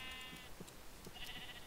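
A sheep in the Minecraft video game bleats in short, faint, wavering calls, two quick bleats alone without talk.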